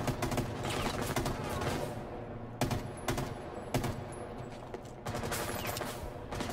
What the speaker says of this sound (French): Mec, ça me tire de tous les côtés là.